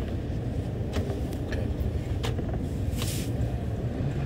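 Steady road traffic rumbles outside a moving car, with a low engine and road drone throughout and a few brief sharper sounds passing by.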